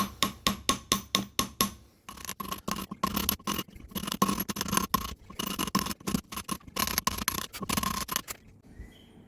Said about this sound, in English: I'm just kind of chiseling here, trying to get that middle score line to go down a little bit.